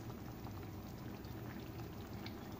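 Rajma masala curry of red kidney beans with dry fenugreek leaves simmering in a pan, a steady soft bubbling and popping that continues evenly with no voices.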